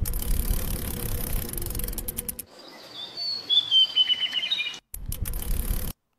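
AI-generated birds chirp and tweet in quick bright trills in a forest for a couple of seconds, set between bursts of loud rumbling noise before and after.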